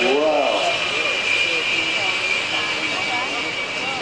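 Jet aircraft roar overhead during a formation aerobatic display at an air show at RIAT Fairford, a loud sustained engine drone with a high whine, while a commentator talks throughout.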